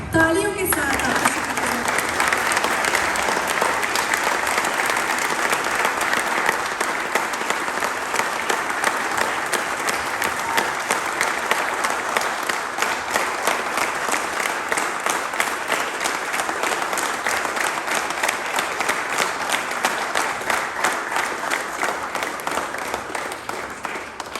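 A religious revival meeting audience in Budapest, Hungary breaks into sustained, steady applause with dense clapping that holds at an even level for the whole stretch and slowly fades toward the end.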